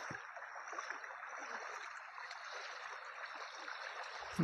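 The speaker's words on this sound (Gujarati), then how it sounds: "આ નદીનો અવાજ પણ કેવો મસ્ત છે ખર ખર ખર" River water hisses and gurgles in a steady, even wash, with no voices and no breaks.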